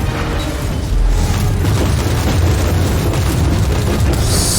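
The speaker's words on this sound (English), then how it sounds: "So, grenade out." A grenade explodes in Warhammer 40,000: Inquisitor, a loud deep boom that rolls into a sustained rumble of combat noise, with a brighter crackling burst closing it out.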